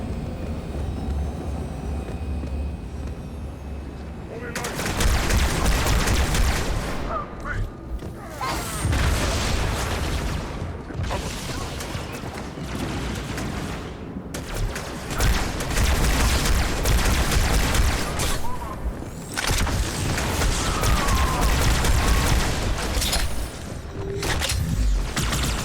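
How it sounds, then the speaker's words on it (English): Booming blasts and scattered gunfire in Halo 2 combat, loud, dense and continuous, with repeated heavy impacts and rolling rumble, plus brief distant voices. "And we're taking fire from somewhere."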